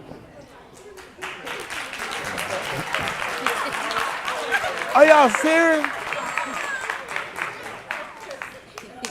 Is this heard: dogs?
no